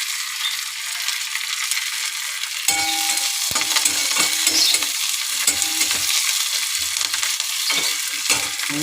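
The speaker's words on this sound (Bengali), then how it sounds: "কারি পাতাটা ভাজা হয়ে যাক।" Curry leaves frying in hot oil with black cumin and green and dry chillies, a steady close sizzle with scraping stirring strokes repeating throughout.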